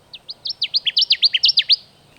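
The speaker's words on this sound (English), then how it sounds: "That's a Connecticut warbler." A Connecticut warbler sings loudly from a low shrub, a rapid run of about a dozen bright, clipped chirping notes in quick, steady rhythm, close and clear over a quiet background.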